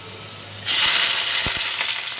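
Onions dropped into hot oil in a wok, starting with a sudden loud sizzle that keeps crackling and frying steadily, with a few faint clinks of stirring and no talking.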